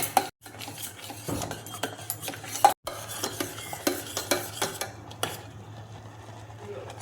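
Kunafa cheese stuffing is stirred steadily in a pan, with repeated scraping and clinking of a spoon against metal over a faint low hum; close and busy, no speech.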